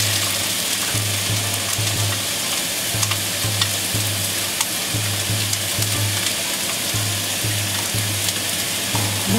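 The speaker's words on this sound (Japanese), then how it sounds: "こちらで野菜を炒めますね" Vegetables stir-fry in a pan with a loud, constant sizzle and a low rhythmic scraping pulse about once a second, close up and continuous, without speech.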